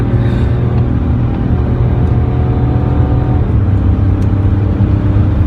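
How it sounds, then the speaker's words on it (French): A BMW X5 SUV's engine drones and rumbles steadily from inside the cabin under acceleration, a loud continuous hum without distinct gear-change breaks. "Passage de vitesse, palette au volant, ouais."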